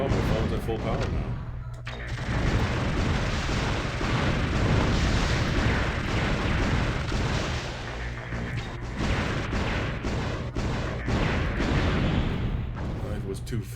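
Cannon fire in the video game Einhander, dense continuous blasts and explosions roaring throughout with a person talking over the barrage.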